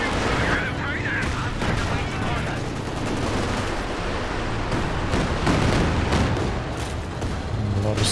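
Battle noise in the real-time strategy game Company of Heroes 2 as an anti-tank gun fires, with loud cannon booms and explosions mixed into constant small-arms fire, all under a commentator's talk.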